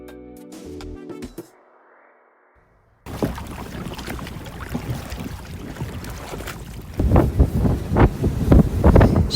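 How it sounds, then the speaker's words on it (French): Wind and rough seas aboard a ship at sea in Arctic waters near Svalbard and Greenland, a dense roaring wash that starts abruptly after a brief quiet stretch and grows louder with surging bursts toward the end. "je voulais juste vous faire écouter ce vent, ces bruits"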